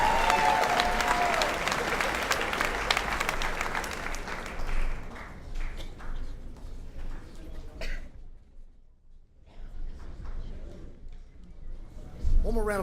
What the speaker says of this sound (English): one more round of applause for your Franklin basketball team